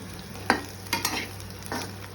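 Green chilies and curry leaves cook in a pan, with a few quiet utensil scrapes and taps over a low sizzle and a faint steady hum, close but soft.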